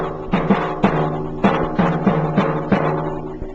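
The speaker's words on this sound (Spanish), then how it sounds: "el timbal con una baqueta dura como las baquetas de madera" A timpani is struck repeatedly with hard wooden sticks, sharp attacks in a steady pattern of about eight hits, each with a short ringing tone.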